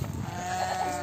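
A goat bleats in a rural Indian village, a short wavering call heard fairly close over steady outdoor background noise.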